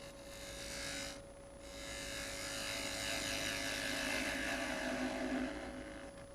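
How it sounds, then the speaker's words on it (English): Spindle gouge makes a light straight cut across wood turning on a lathe. A steady, hissing scrape continues over the constant hum of the lathe, with a brief pause near the start. "I'm just going to take the spindle gouge and do a straight cut across"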